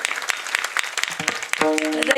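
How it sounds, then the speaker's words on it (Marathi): Audience applause at a devotional Ram Katha gathering, scattered and brisk clapping, with a voice speaking over it toward the end. "जोरात टाळ्या वाजवा यांच्यासाठी"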